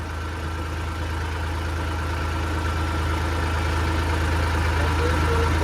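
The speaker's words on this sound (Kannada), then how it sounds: "ಟ್ಯಾಕ್ಟ್ರಿ ಹಾಕೊಂಡ್ ಬಂದಿದೀವಿ ಇಬ್ರು" A tractor engine runs steadily on an empty road, a continuous low rumble with a throbbing idle-like pulse, close and loud throughout with no pauses.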